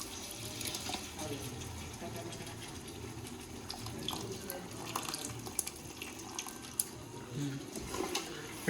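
Water runs steadily from a tap into a cooking pot, a soft continuous splashing with occasional small clinks, fairly quiet and close.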